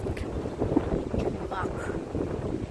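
Gusty wind buffets the microphone outdoors by a hotel at night, a steady low rumble running through the whole stretch with faint background sounds mixed in.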